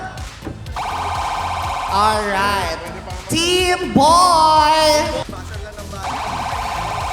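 Game show team buzzers are tested one after another during a buzzer check on a Filipino variety show, each a loud, sustained electronic tone, with a host's voice and some warbling effects between them.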